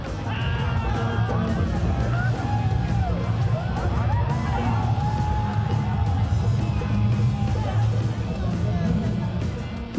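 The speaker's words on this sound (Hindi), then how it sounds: "भोजपुरी गाने की हर लाइन के साथ सीटियों की आवाज और दीवानी होती भीड़।" A dense crowd at a Bhojpuri song show at Sonpur Mela in Bihar yells and whoops continuously over loud music, the roar steady and close throughout.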